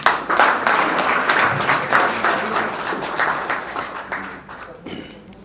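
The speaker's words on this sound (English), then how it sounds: "Let us clap for her." An audience at a political alliance gathering gives a speaker steady applause that starts loud and thins out near the end, with a voice heard faintly under it.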